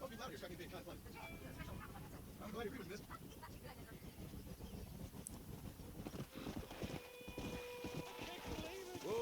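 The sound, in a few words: horse hooves on dirt road in Red Dead Redemption video game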